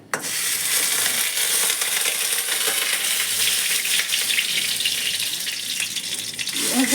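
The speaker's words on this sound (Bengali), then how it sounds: "এই যে পেঁয়াজ বাটাটা এখন দিয়ে দেব।" Onion paste goes into hot frying spices for matar paneer, setting off a loud, steady, close hiss of sizzling that runs unbroken for several seconds, with no talking.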